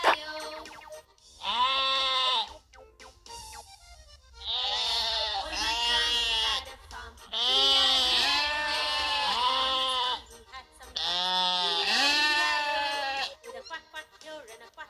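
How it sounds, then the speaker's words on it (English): Sheep bleating in a series of four wavering calls with brief gaps between them, near and fairly loud with no other sounds. "Sheep."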